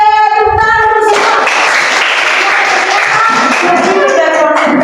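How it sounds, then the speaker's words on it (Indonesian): A whole class applauding together, a steady dense wash of hand claps lasting several seconds, with a teacher's voice at the start and children's voices mixed in. "Oke, tepuk tangan semua."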